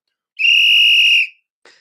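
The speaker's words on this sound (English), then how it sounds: "Let's blow a whistle for that right there." A single sharp whistle blast, bright and steady, lasting nearly a second, loud and close, followed by a brief faint breathy sound.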